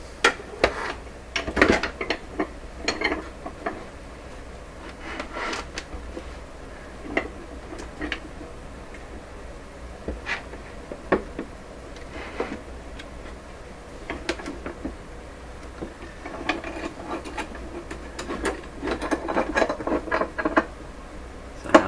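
Close, irregular clicks and ratcheting ticks from a very long clamp being tightened down on a glued wooden cabinet for a Canadian Crosley 12B radio, scattered across the whole stretch with no talking.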